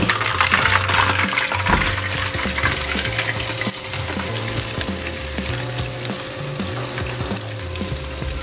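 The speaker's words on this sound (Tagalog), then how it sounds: "Takpan natin para okay ang pagkakaprito" Chinese-style garlic chicken wings frying in a thick pan, a loud continuous crackling sizzle with bubbling oil throughout, close up and alone without talking.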